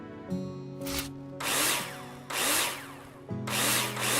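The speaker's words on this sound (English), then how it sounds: "Take your drill out and screw them in." A power drill in a video game whirs in several short bursts while driving screws, with a brief hum before each burst and quick pauses between them, loud and close.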